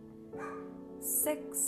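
A small dog yaps twice in quick bursts in the background of a home Pilates and ballet-fusion workout, heard under an instructor counting aloud over a steady low music bed.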